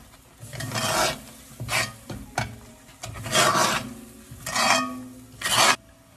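A spoon stirs roasted eggplant with onions in a pan, making a series of close, rhythmic rasping scrapes in about six strokes with short pauses between them and no talking.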